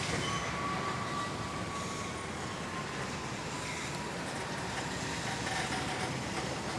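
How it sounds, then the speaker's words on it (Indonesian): A Kalog freight train, coupled with former cement wagons and carrying goods from Pandaan, rolls into Jakarta Gudang at Kampung Bandan with a steady rumble and faint wheel squeal, continuous and fairly close, with no talking. "inilah dia kereta api barang Kalog yang membawa produk Trail Maijon dari Pandaan masuk dengan digabung kereta api bekas semen."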